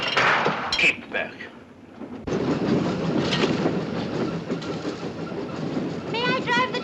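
Steam train running on rails in a 1959 film, a loud continuous rumble and clatter of wheels that starts abruptly after a brief quieter stretch with faint other sounds.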